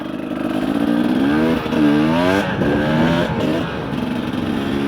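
An enduro motorcycle on knobby cross tyres with mousse inserts rides along a road, its engine droning steadily and loudly with rising and falling revs throughout.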